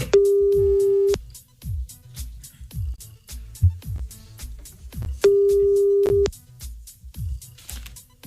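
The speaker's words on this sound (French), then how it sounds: "On y va, on appelle comme tous les soirs" A telephone call placed live on a French radio show produces two long ringback tones about four seconds apart, loud and steady, with rhythmic music pulsing underneath.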